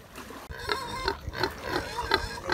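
Pigs at a small pig farm on the island of Manihiki in the Cook Islands grunting repeatedly at close range, a steady run of short oinks and snorts.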